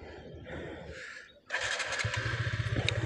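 A motorcycle on a Sunday street ride toward Kolkata starts up after a short quiet moment, then its engine revs and idles in a steady, near, pulsing rumble as it pulls away.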